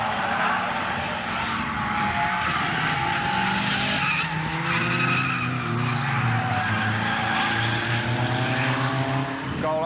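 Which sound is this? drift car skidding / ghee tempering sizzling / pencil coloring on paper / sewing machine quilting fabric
drift car skidding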